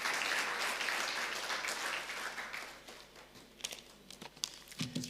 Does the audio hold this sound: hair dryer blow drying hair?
no